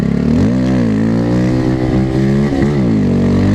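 Motorcycle engine revving hard during power wheelies on a slushy, snowy road, a loud, close, continuous roar whose pitch rises and falls with throttle blips and no speech.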